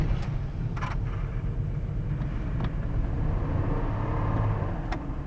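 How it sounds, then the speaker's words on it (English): A Chevy Trailblazer engine with a failing cylinder 6 ignition coil idles steadily up close, a low continuous rumble with slight uneven stuttering and a few faint clicks, no voices. "here's what my car sounds like right now when I turn it on"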